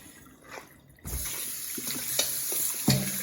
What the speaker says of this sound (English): Rinse it off again, cold water.